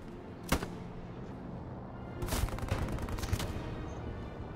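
Machine gun fire in the Hell Let Loose battle game: one sharp distant crack, then after a pause a burst of rapid shots rattling for about a second, with a low battlefield rumble underneath.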